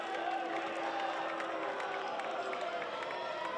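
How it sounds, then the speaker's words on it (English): Crowd at a Big Ten college baseball game between Minnesota and UCLA reacts after a batter is hit by a pitch. Voices murmur and call out, with scattered shouts and some clapping. Everything sounds moderately distant and sustained. "Crowd is letting him hear it"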